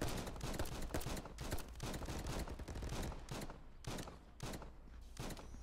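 Rapid bursts of gunfire in the VR shooter Contractors VR, dense and loud with overlapping shots across the whole span, a few short gaps between volleys and almost no talk over them.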